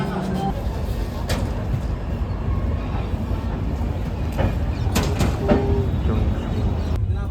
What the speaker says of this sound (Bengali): আমাদের ট্রেন করমণ্ডল এক্সপ্রেস ছেড়ে দিল খড়গপুর স্টেশন থেকে